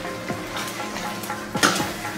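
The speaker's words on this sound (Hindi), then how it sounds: "सारे चीजों को अच्छे से मिक्स कर लेंगे" Dal tadka with finely chopped green coriander is stirred in a frying pan, a soft continuous sizzle with a few quiet spoon scrapes and one sharper clatter near the end, close by with no talking.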